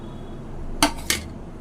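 Spice powders being mixed into a chicken 65 marinade in a bowl: two quick clinks of a utensil against the bowl stand out over faint background noise, close and brief.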